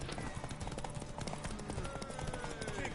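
A brown horse's hooves clip-clop steadily in a video game, a continuous patter of hoofbeats mixed with faint tonal sounds and background game noise.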